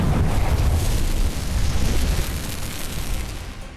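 Explosions rock a cargo ship in the Red Sea after a Houthi attack, a loud rolling roar of blasts that rumbles on and slowly fades, with no speech.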